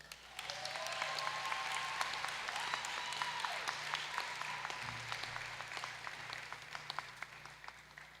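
Graduation awards audience applauding steadily for a scholarship winner, a dense wash of many hands clapping, with faint voices and a low hum under it.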